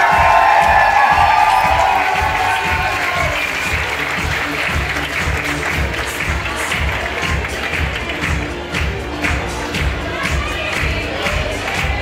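An audience at a high school graduating class's sash ceremony in Soběslav applauds loudly and steadily for about twelve seconds, with dense clapping and crowd cheering throughout and a few voices audible in the mix.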